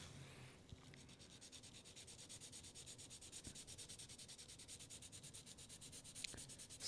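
God Hand 240 grit sandpaper scuffs a 1/24 scale model car body in quick, steady back-and-forth strokes, a faint close rasping rhythm that runs throughout without talking.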